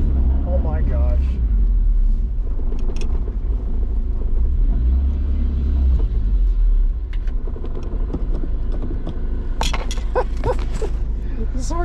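A Honda Civic wagon (RT4WD) engine runs after starting, with a low, steady rumble and some light clinks. People talk excitedly over the idling engine.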